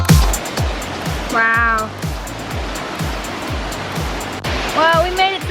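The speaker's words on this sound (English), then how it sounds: "That waterfall is so tall." A tall waterfall in Maui, Hawaii, roars steadily as broad, constant rushing water, while a person exclaims and other voices and chirpy sounds pass over it.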